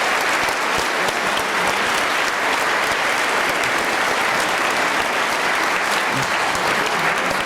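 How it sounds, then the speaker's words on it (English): Big round of crowd applause for the music boosters at a high school marching band concert, dense and continuous clapping that fills the hall at a steady loud level with no talking. "I'd like to recognize the boosters and everybody who's been putting in all the work for all these years and all these months. And so I just like big round of applause"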